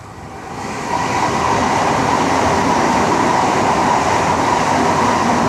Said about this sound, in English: I think we have another train coming.